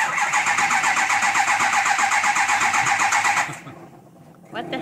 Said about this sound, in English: going to start this truck so we can try and see that the wheels turn